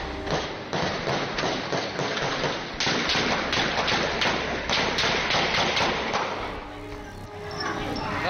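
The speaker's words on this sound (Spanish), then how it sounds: "Es ahí cuando se intensifican los disparos." Sharp gunshots crack repeatedly in irregular bursts as shooters fire on a surrounded vehicle, over a constant noisy background, loud and close, with faint voices mixed in.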